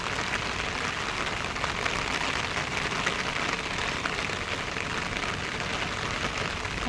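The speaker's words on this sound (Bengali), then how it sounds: "দেখতেই পাচ্ছ, তোমরা বুঝতেই পারছো কত জোরে বৃষ্টিটা চলে এলো" Heavy rain pouring down outdoors, a dense, even hiss of falling water that stays constant and loud for the whole stretch with no other sounds standing out.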